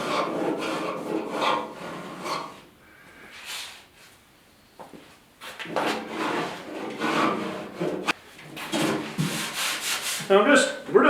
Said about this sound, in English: So I am using my little palm sander here, my oscillating sander.